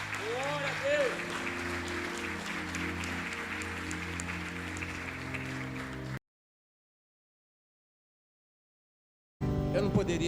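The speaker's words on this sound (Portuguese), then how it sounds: "Então podemos aplaudir o Senhor por isso?" Steady applause from a church audience fills the first six seconds, then breaks off into silence before clapping resumes loudly near the end.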